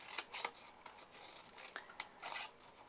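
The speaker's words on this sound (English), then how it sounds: "And then just simply cut the corners of your wedges." Scissors make a series of quiet, close snips, about half a dozen crisp cuts, trimming the corners of paper wedges for a wood-texture heat-embossed box, with no one talking.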